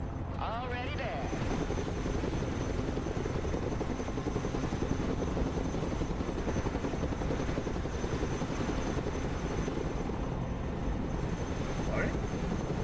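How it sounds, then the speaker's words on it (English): A Chinook heavy transport helicopter in the military RTS game Broken Arrow drones with a loud, continuous rotor and engine roar, joined by brief game effects. "Chinook."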